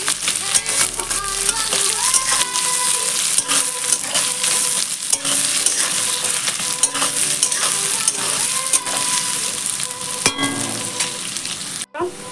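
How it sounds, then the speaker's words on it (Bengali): Onions sizzling steadily in hot oil in a pan, fried until reddish-brown for a Bengali jackfruit-and-prawn curry, with occasional stirring scrapes, close and loud throughout with no talk. "এবার পেঁয়াজটা লাল করে ভেজে নেব।"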